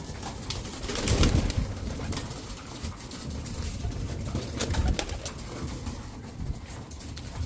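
Pigeons cooing in a loft, including young Taiwan birds, with a low, steady murmur of coos and two louder swells of calling over soft rustling, close by and without talk.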